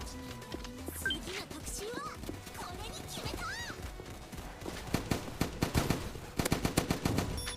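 A gun firing in a Roblox video game: a quick series of sharp, punchy shots near the end, with voices talking and other game sounds before and under them.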